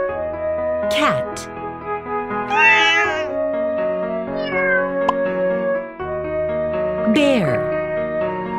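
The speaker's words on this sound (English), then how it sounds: "Cat." Over steady upbeat music in a kids' animal-sounds learning game, a cat gives a few clear meows, some sliding sharply downward, spaced a couple of seconds apart.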